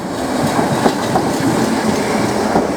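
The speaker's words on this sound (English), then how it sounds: "Oh, there's the other train." A train rolling past on a railway line near Liverpool, loud and close with a steady rumble and rhythmic clicking of wheels over rail joints.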